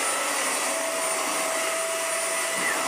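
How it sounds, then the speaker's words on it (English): A Vax Air Pet U88-MA-SE vacuum cleaner, restored and refurbished, runs with a steady, loud motor whine that holds evenly throughout, close by and with no talking over it. "you want to get run over with the vacuum cleaner?"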